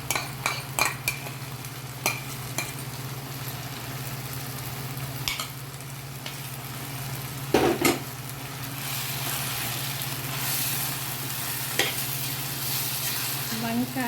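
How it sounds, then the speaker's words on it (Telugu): Vankaya mutton masala cooking in a pan with beaten thick curd stirred in, a steady sizzle running throughout, with occasional scraping and clinks of a utensil against the pan. "పెరుగు కూడా ఇప్పుడు వేసేస్తాను"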